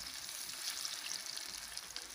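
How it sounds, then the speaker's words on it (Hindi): Pumpkin koftas fry in hot oil with a steady, bright sizzle and crackle, close and fairly quiet, with no talk. "फ्राई हो रहे हैं कोफ्ते"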